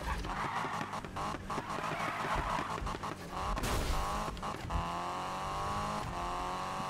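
Car drifting in Need for Speed 2015 (Nissan Silvia S15 build), with a sustained engine roar and revving shifting pitch alongside tire squeal across several seconds, loud and continuous.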